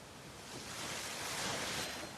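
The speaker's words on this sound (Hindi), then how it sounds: "और झरना आ गया बहुत तगड़ा भाई।" Powerful waterfall on the route to Gangnani, a dense, continuous roar of rushing water heard close and loud, swelling slightly after the first half second and holding steady without speech.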